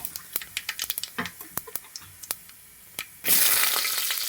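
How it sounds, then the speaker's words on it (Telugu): Cumin and mustard seeds are tipped into hot oil: a run of sharp pops and crackles, then a sudden loud, steady sizzle as the seeds hit the pan, close and with no talking. "ఆయిల్ అయితే హీట్ అయిందండి. జీలకర్ర, ఆవాలు వేసుకోవాలి ముందుగా."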